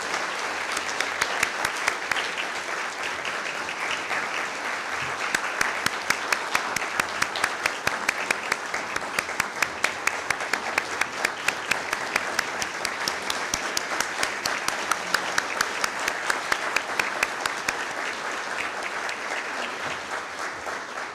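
Sustained audience applause at a university School of Education Hall of Fame alumni awards ceremony, steady dense clapping from a sizeable crowd lasting throughout, with no speech over it.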